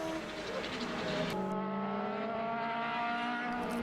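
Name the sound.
racing cars accelerating down the straight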